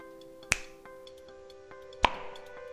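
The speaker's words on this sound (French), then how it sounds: "je vais tester un claquement de doigts" Two crisp finger snaps ring out in a quiet room, spaced about a second and a half apart, each a sharp, close click against a faint steady hum.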